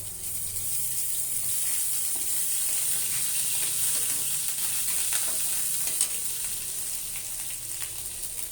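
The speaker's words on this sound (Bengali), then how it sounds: "অল্প কালি জিরা দিয়ে চিংড়ি মাছটাকে কষিয়ে নেব।" Shrimp fry in a hot pan with nigella seeds, green chillies and ginger paste for a bottle gourd curry, giving a loud, steady close-up sizzle with occasional stirring scrapes and no talk.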